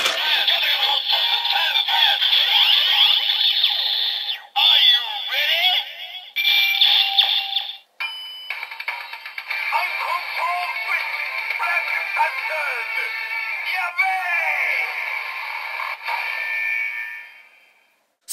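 Electronic chimes, jingles and voice effects from a Kamen Rider Ex-Aid DX Full Bottle toy (Level 1 version) in a Build belt setup, playing almost continuously for about seventeen seconds, with brief gaps and a cut-off at the end.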